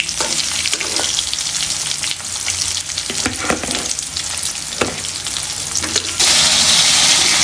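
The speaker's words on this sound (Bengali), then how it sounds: "মাছ দেওয়ার সময় এরকমভাবে একটু নাড়ায় চড়াই দিলে মাছটা লেগে যাবে না" Loud, steady sizzling of rohu fish frying in oil, with scraping stirs and clatters in the pan at irregular intervals; no talking.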